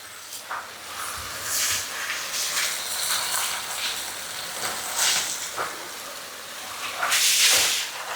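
Kanchong vegetables hit a hot pan of pork stir-fry and set off a loud, hissing sizzle that rises in several strong bursts and stays close and continuous throughout.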